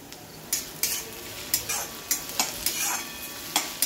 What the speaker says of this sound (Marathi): मिरची आणि कांदा तुम्हाला छान आता परतून घ्यायचा आहे